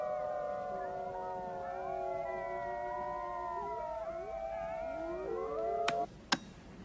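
Several wolves, with a white wolf among them, howl together in overlapping long wavering tones that rise and fall in pitch. The chorus fades out, followed by two sharp knocks.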